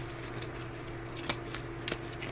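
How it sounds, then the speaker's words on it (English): Tarot cards shuffled by hand, with a few soft riffling bursts and sharp flicks over a steady low room hum, fairly quiet and close. "I guess I started shuffling."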